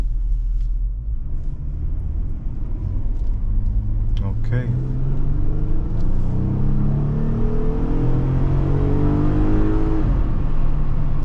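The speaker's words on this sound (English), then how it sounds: "there is a lot of road noise happening right now" Steady, loud low rumble of tires and engine fills a Jeep Wrangler cabin while driving, with a brief spoken word and a rising engine whine later on.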